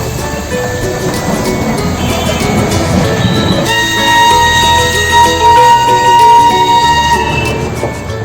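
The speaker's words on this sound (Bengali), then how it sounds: "কিছু দূর গিয়ে দেখা পেলাম টয় ট্রেনেরও" A toy train running on rails through fog in the hills, loud and near, with a heavy rumble and clatter; a sustained high whine joins partway through.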